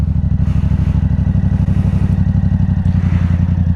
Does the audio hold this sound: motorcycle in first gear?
yes